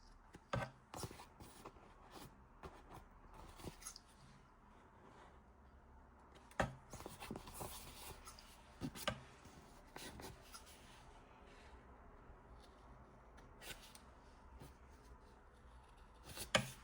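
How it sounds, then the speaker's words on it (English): Scissors cutting fabric at close range for a no-sew fabric envelope: quiet, intermittent snips and rustles of cloth, spaced irregularly over a faint, hushed background. "with fabric it doesn't work, so you have to use scissors"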